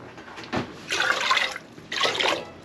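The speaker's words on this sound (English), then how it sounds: "so I'm going to put in 3 cups of water." Water poured from a container into a pot of pickling brine with vinegar, two close splashy gushes, the second shorter, with a brief clunk between them and no voices.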